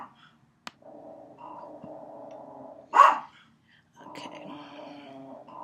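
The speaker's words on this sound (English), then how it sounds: "There's my dog barking" A dog barks once, loud and close, a short sharp burst that cuts through steady talk and ends as the speaking resumes.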